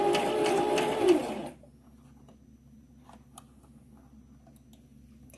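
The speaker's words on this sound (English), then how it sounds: "put your handle into the sewing machine and start sewing with the zigzag stitch" A sewing machine stitching a zigzag stitch on a bag handle runs fast and loud for about a second and a half, then stops, leaving quiet room tone with a few faint clicks.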